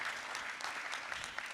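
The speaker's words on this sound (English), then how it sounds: "first round of applause for our panelists" A conference audience at a cannabis research panel in Barcelona claps steadily for the panelists, a dense, even patter of hands with no voices over it.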